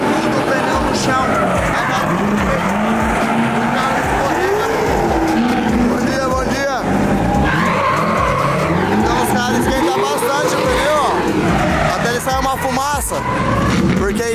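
A drift car with a JZ engine spinning its tires on the track to heat them, with the engine revving hard and loud, screeching tire squeal rising and falling continuously throughout.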